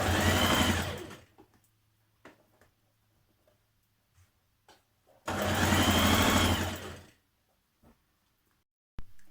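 A sewing machine stitches a playsuit seam made from a refashioned duvet cover. It whirs in two loud bursts of rapid stitching with a quiet gap of small clicks and handling between them.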